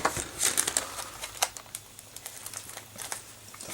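A paper sticker sheet for a Tamiya Mad Bull is handled up close, making quiet crinkles and papery ticks in short irregular bursts with brief pauses between them, and no one speaks.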